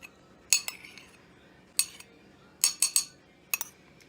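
A utensil clinks against a bowl while eggs are stirred into peanut butter cake batter: short bursts of metallic tapping and scraping in separate clusters, close and fairly quiet, with no talking.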